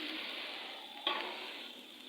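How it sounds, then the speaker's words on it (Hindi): Mutton mince fries with golden onions in ghee, giving a steady bright sizzle up close, with one sharp stirring clack partway through. "इसको भी करूँगी फ्राई इन प्याज़ों के साथ"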